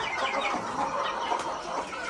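Chickens cluck and chatter busily as they are fed watermelon rinds, a dense continuous flock sound close by with no talking.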